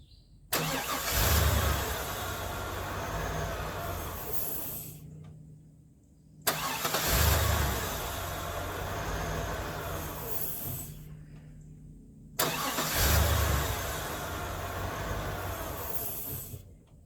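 A barn-find Chevy 3500 pickup with an 8.1 engine cranks and catches three times, each start running for several seconds at a loud, steady idle before cutting out, with short quiet gaps between.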